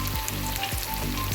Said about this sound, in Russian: подняла, чтобы лучок наш быстрее пожарился